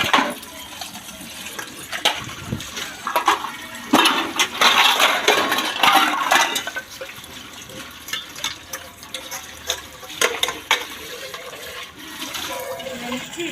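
Water being drawn for a household after dishwashing, with a steady gushing, splashing flow and some clattering, moderately loud and close, rising and easing throughout.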